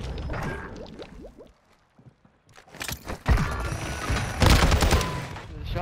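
Gunfire from a shotgun and other weapons in the video game Modern Warfare 2, with loud, sharp bursts in two clusters separated by a brief lull, along with some mechanical clatter.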